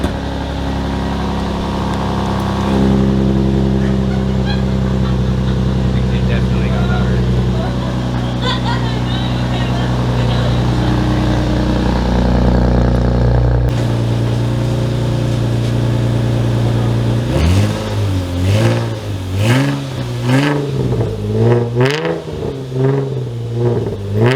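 An Infiniti G35 with newly fitted valved mufflers idles with a steady low drone, then revs repeatedly near the end in rising and falling throttle blips.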